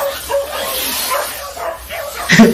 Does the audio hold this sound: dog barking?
yes